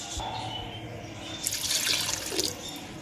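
Water poured from a glass into a pot of mutton for homemade cat gravy, a brief soft splashing stream in the middle of the clip over low kitchen background noise.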